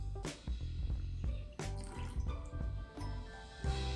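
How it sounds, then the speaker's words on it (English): Water drips in small splashes into a sourdough starter of flour in a container on a kitchen scale, a quick run of close, distinct drops and trickles. "So now I'm just going to do little drips."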